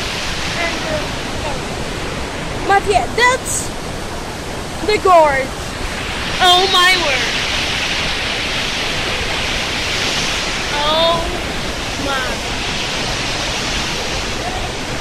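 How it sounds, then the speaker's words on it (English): A waterfall in a gorge on a Swiss walking trail near Leukerbad roars as a constant, loud hiss, while a voice exclaims briefly over it. "And here's the waterfall."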